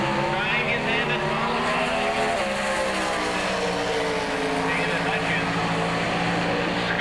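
A 1986 Pro Stock Camaro drag racing car at the NHRA Spring Nationals, its loud sustained engine roar droning steadily throughout, with announcer-style talk layered over the noise.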